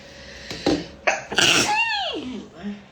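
A woman sneezes several times in a row during a live stream, the sneezes blamed on rhinitis from air conditioning. Sharp close bursts are followed by a falling vocal sound and a brief murmur.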